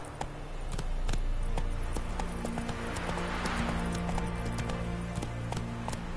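Roach, the horse in The Witcher 3, gallops with continuous rapid hoofbeats, close and steady over a low ambient game soundscape.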